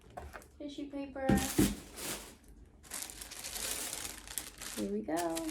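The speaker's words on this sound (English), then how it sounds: "Tissue paper." Tissue paper crinkles and rustles up close as a Saint Laurent luxury handbag is unboxed, with bursts of crumpling between stretches of people talking.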